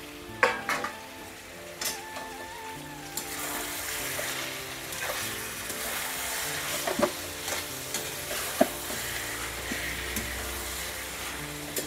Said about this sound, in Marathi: आता आपल्याला याला चांगलं परतून घ्यायचंय